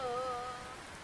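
Rain beginning to fall in a horror camping game: a soft, even patter of drops on surfaces, faint and steady, with a faint sustained tone fading out early and no voices.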